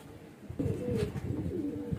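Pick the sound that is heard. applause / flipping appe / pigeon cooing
pigeon cooing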